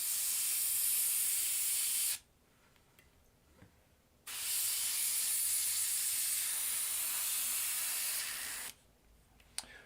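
An airbrush blasts paint out in long, loud, steady hissing sprays between colour changes, two sustained bursts separated by a quiet pause.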